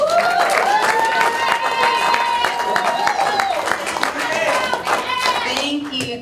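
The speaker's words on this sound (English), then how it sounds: "big round of applause, Britton Hart." Audience applause rolls through a pre-fight press conference for Bare Knuckle FC 2: sustained clapping and crowd noise for about six seconds, with voices mixed in and a steady, fairly loud level.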